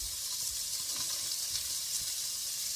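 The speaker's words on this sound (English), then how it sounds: "Onions and garlic in. We're just going to let those brown for a minute" Onions and garlic sizzle in a pan over browned chicken fond for puttanesca sauce, a soft, continuous high hiss heard close and without talk.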